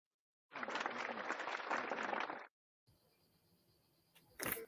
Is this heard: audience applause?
yes